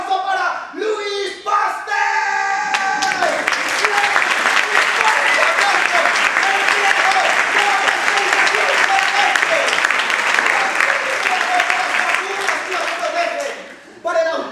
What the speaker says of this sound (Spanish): Os voy a pedir a todos, a todas, un fuertísimo aplauso para Louis